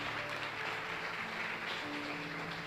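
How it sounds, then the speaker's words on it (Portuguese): Church congregation at a Sunday service clapping together, a steady wash of applause heard from a distance under a faint sustained organ or keyboard tone. "Dá uma salva de palmas para Jesus."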